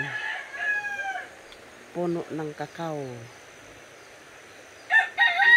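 A rooster crows twice, with chickens clucking in a short burst between, over quiet background; a voice speaks briefly.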